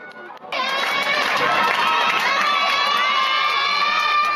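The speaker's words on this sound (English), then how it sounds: "everyone was cheering for the girls" Crowd at a Japanese high school sports festival bursts into loud, sustained cheering and shouting as a running race begins, with high children's and teen voices yelling continuously after a brief quieter start.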